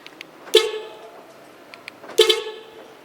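Two short car horn honks, loud and close, sound during installation of a central locking horn module, with a quiet pause between them and no talk.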